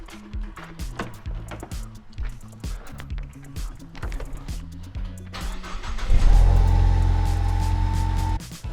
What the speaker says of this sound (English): we're gonna go ahead and start our car like normal